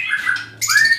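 A magpie robin (murai) kept at a breeding setup gives two sharp, loud squawking calls close by, separated by a brief pause.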